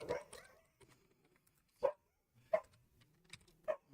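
Dogs bark indoors in a handful of short, separate yaps spaced a second or so apart, moderately close but not loud, with quiet gaps in between.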